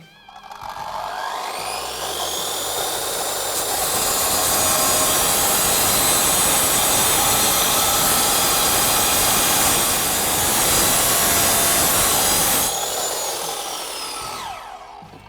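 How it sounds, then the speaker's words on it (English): DCT R230 9-inch concrete saw with a general purpose diamond blade cutting through thick rebar, a loud high-pitched grinding whine that rises as the blade spins up, holds steady through the cut and winds down at the end. "So here's a very thick piece of rebar, cut off with ease using the R230 DCT."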